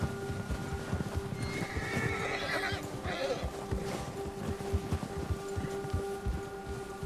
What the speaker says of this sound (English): There is spooky horse.